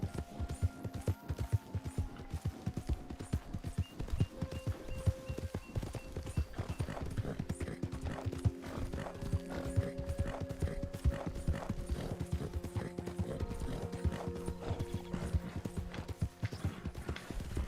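Horse hooves clip-clop steadily in the game Red Dead Online, a close, continuous rhythmic stepping with a brief whinny-like tone early on and faint tonal background sound.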